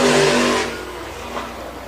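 A sprint race car passes on an oval track, its engine loud and close at first, then fading quickly as it moves away.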